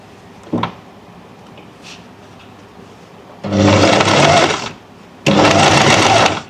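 A sewing machine stitches the main fabric of a V-neckline, running in two loud sustained bursts separated by a short pause, after a faint knock and low room noise.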